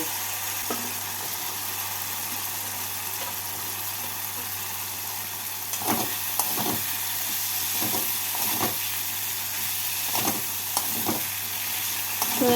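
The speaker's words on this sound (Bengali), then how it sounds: "সজনে ডাঁটা দিয়ে মশলার সাথে এক মিনিট মতো নাড়াচাড়া করে নেব" Moringa drumsticks are stirred into a frying spice masala for a shrimp curry, with a steady hiss of sizzling throughout and scattered scraping strokes and clicks of stirring in the second half.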